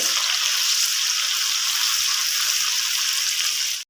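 Loud, steady sizzling and crackling of spice paste frying in hot oil in a pan, a continuous close hiss that cuts off abruptly at the end.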